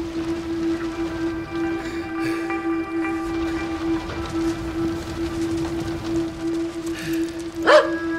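One dog bark in the video game As Dusk Falls rings out near the end over a constant mechanical hum and low rumble.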